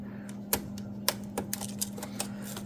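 Scissors snip component tape on a DDM Novastar L-BF-12 pick-and-place feeder, a handful of sharp close clicks at uneven intervals over a steady low machine hum, with no talking.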